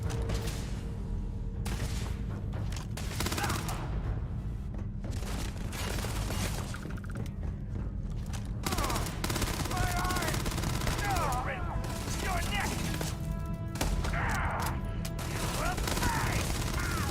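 Rapid gunfire from the Starfield game runs nearly continuously under a dense in-game mix of bursts and booms, with a companion character shooting and a voice talking at times.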